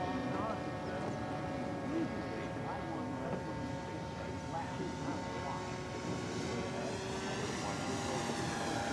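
An E-Flite P-51B Mustang 32e electric RC plane drones steadily with a constant motor and propeller whine throughout its landing approach, a moderately loud continuous hum with faint outdoor background.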